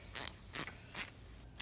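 A carburetor part on a clone engine is tightened back up: three short, crisp ratcheting clicks spaced evenly about 0.4 seconds apart, close and fairly quiet, with no talking.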